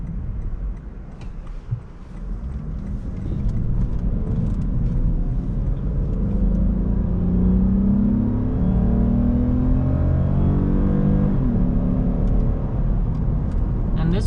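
A 2015 Lexus IS250 with a small 2.5 liter V6 engine and rear wheel drive cruising on the road: a steady low engine hum and road rumble that builds slightly, heard from inside the cabin, with no talking.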